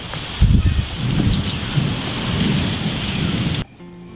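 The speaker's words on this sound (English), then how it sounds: "the second I got back, storm set in." Heavy rain pours steadily with deep rumbles of thunder rolling beneath it, loud and close, before cutting off abruptly near the end.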